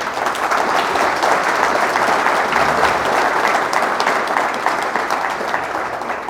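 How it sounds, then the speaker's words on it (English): A large audience applauds at a farming talk, dense and continuous clapping at a steady loud level throughout, filling the room without a break. "let's give Jim another big round of applause"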